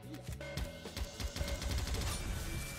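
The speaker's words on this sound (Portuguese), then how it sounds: "A metralhadora da Rain dispara rápido, cara." Rapid machine-gun fire from the character Rain in the video game Goddess of Victory: Nikke, a dense stream of shots layered over game music and effects, steady and fairly loud throughout.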